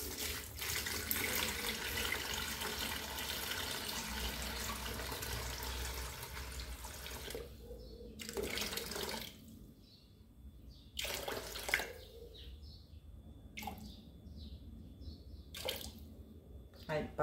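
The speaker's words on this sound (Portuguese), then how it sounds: "E vou colocar a água." Water poured from a tap into a bowl of pizza dough sitting on a kitchen scale, a steady broadband rush running for several seconds before stopping, followed by a few short splashes and gaps while someone talks.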